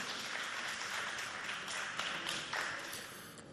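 Faint applause from an audience at a high school event in Chad for a student speaker, a soft continuous patter of clapping heard from a distance that tapers off toward the end.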